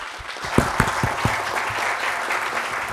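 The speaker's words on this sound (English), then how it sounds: "May I maybe we give a big applause to the panelists" Panel conference audience claps for the panelists, a dense steady round of applause from a moderate crowd, close and sustained across the whole moment.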